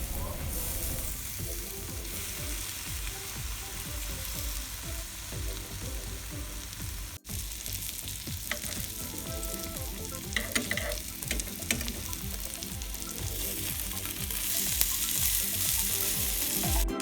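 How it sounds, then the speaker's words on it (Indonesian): Garlic bread toasts in a nonstick teflon pan with a steady, close sizzle and crackle that holds for a long stretch, broken by a brief pause and occasional scraping or shifting of the bread. "Kita panggang di atas teflon seperti ini."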